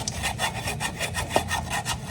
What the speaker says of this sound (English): I'll do some sanding.